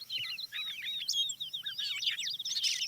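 A recorded dawn chorus of several songbirds, crows among them, whistling and trilling in overlapping busy phrases that carry on without a break, with a low steady hum running underneath and no talking.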